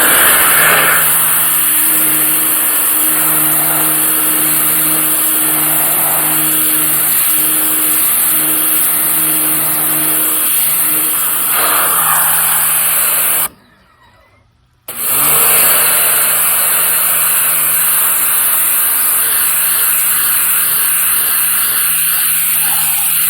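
Sun Joe SPX3001 electric pressure washer running steadily while washing a car, a loud continuous motor whine with a hissing water spray, broken by a brief pause before starting up again.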